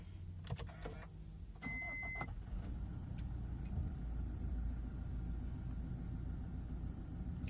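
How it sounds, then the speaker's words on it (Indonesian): A Toyota Fortuner 2.4 diesel VRZ automatic from 2017 starts with a brief starter whir, then settles into a steady, low diesel idle rumble that carries on close and even, with no one speaking. "tadi pas starter dia agak bergetar dan kayak masih masuk ya suara mesinnya"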